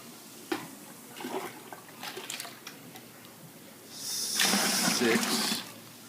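Water poured from a 2-quart pitcher while measuring about 3 gallons for brewing beer, a steady gushing splash lasting a second or two, preceded by faint handling clatter and quiet talk.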